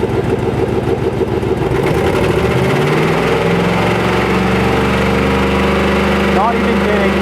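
A 2002 Chevrolet Silverado 4.8L V8 with a random misfire and low power, held steady at about 2,500 RPM: a loud, continuous engine drone heard close up, with a slight uneven fluctuation and no talking over it.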